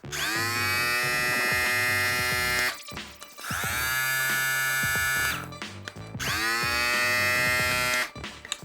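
An electric shaver's brushless motor runs with a steady high-pitched whine in three long bursts, briefly cut off in between, close and loud.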